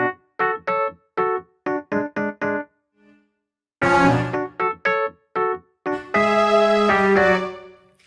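A keyboard plays a run of short staccato chords, then a foot pedal brings in a sustained string layer that swells into long held chords. The playing is loud and close, with no voices.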